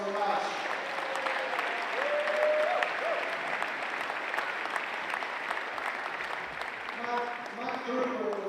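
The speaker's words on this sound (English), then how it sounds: "Big round of applause for Matt" Spectators at a world wallball championship court give a continuous round of applause, even and moderately distant throughout, with faint voices and calls mixed into the clapping.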